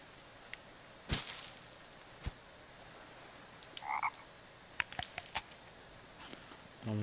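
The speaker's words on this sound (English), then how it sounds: "Where's this frog though?" A frog croaks in a forest, a few short, quiet croaks scattered among soft rustles and taps, with a couple of sharp clicks in the stillness.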